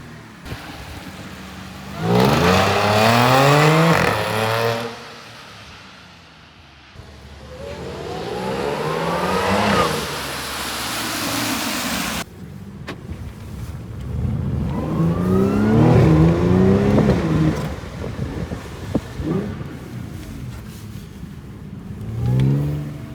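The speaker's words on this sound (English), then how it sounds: "when you're flat out in this car, it's gonna be screaming." A B8.5 Audi S4 fitted with AWE non-resonated downpipes revs hard in several loud, rising sweeps, each climbing in pitch, falling back, then pulling again. No one talks.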